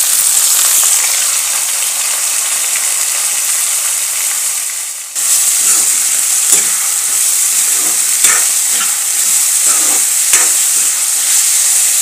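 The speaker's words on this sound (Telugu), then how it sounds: "నేను ఇందులో ఉల్లిపాయలు అన్నీ కూడా వేసేస్తున్నాను" Chopped onions and tomatoes fry in a pan with a loud, steady sizzle, close by, broken by a brief dip and then scattered stirring scrapes.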